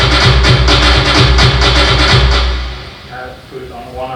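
A stiff, fully quantized electronic drum beat with no swing pounds out evenly spaced kicks and hits up front, then cuts off, leaving quieter fading tones.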